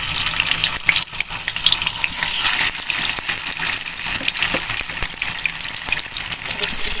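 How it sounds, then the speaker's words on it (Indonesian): Tofu pieces frying in hot oil, a steady dense crackling sizzle that runs continuously and fairly loud throughout, with no one speaking over it. "minyaknya sudah panas, tahunya kita goreng ya guys"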